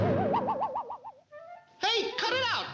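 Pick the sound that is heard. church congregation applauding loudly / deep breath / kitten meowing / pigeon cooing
pigeon cooing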